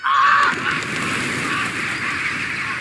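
Birds honk in a film scene, goose-like calls starting loud and then continuing as a steadier, fainter chorus over a background hiss.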